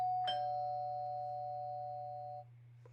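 A single doorbell chime rings out clearly, one strike followed by a long, steady tone that holds for about two seconds before cutting off, set against a constant low electrical hum.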